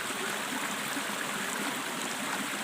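Forest stream flowing steadily at a spot where drinking water lasts all year, a continuous broadband rush and trickle of water, close and even throughout with no voices.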